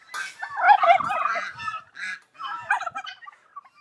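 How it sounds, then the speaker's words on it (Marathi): Turkeys on a farm gobble and honk in a close, loud burst of rapid rattling calls, followed by a few shorter calls. "तर टर्की मध्ये काय टर्की जातीचे कोंबडे"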